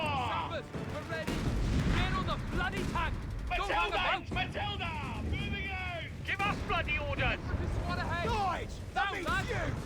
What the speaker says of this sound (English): We're taking incoming fire though.